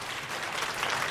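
Studio audience applauding the inventor and TV presenter Jérôme Bonaldi on a French radio history show, a steady, dense clapping that fills the whole moment without any talk.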